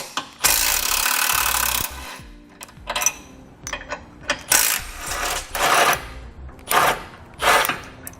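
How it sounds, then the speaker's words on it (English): Socket wrench turning out the tow hook bolts with a 16mm socket during base plate installation on a 2018 vehicle, giving a long ratcheting burst followed by several shorter bursts of loosening and rattling metal, close up with no talk. "We'll now remove both bolts located on each side of our tow hook here with a 16mm socket."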